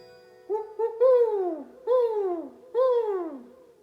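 A voice imitates a great horned owl with a short hoot followed by three longer, falling calls. Each sounds clear and close against silence, with pauses between them.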